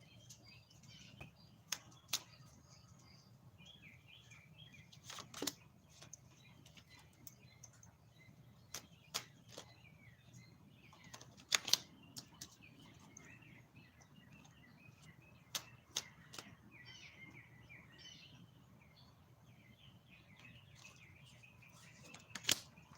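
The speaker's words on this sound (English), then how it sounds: "them birds singing, huh? Beautiful" Small birds chirp and trill softly outdoors, with scattered sharp ticks and clicks breaking through a quiet low hum.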